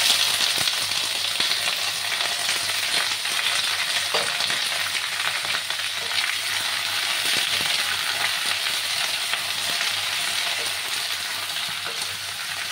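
Cucumber pieces sizzle in hot oil in a pan while mung dal is being made, a steady, dense frying hiss with occasional stirring scrapes, close and continuous without talk.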